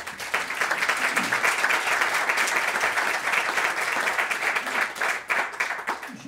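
Steady, dense applause from an audience at a local patois gathering, sustained clapping throughout with a few louder individual claps near the end.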